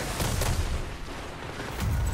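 Gunfire in a shooter video game, Rift, played on the Black Shield map: continuous rapid bursts of shots with booming low impacts, fairly close and steady throughout, with no talking.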